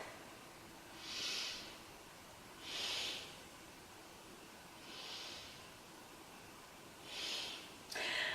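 Four slow, deep breaths during a seated forward yoga stretch for the knees, soft airy exhales spaced about two seconds apart, close and quiet with no talking.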